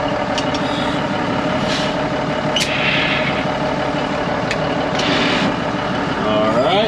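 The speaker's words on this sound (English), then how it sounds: "Let's go ahead and see if the PTO turns on." Old Ford water truck idling with its PTO engaged, a steady low engine rumble with broadband mechanical noise and a few brief hissing bursts, close and continuous.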